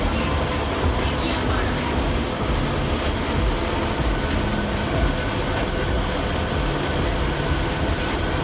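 A Howrah–Haldia local train pulling into Tikiapara station, heard from on board as a loud, steady rumble and roar of wheels and carriage noise, continuous and close, with no clear rhythm.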